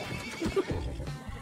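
Horse in the Red Dead Redemption video game neighs in a brief, close whinny over soft hoof clops, heard alone without talk.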